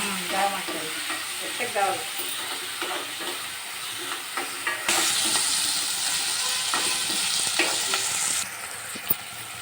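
Tomatoes added to softened onions fry in a pan with a dense, close sizzle, broken by spatula scrapes and clatter, the hiss swelling louder partway through before easing off.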